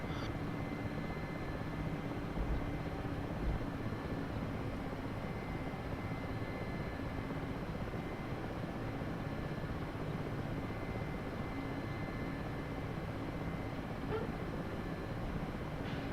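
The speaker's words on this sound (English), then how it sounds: "Nice Mustang fly past there." A P-51 Mustang aircraft passes by at an air event, a steady droning engine roar holding loud and even throughout with no clear rise or fall.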